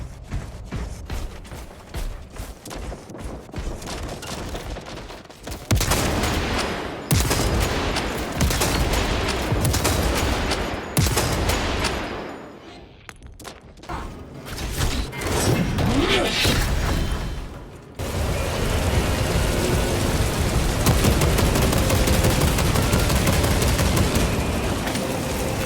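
Gunfire in Space Marine 2 rattles in dense, rapid bursts over a busy mechanical game mix, loud and continuous, dipping briefly midway before surging back in a sustained roar.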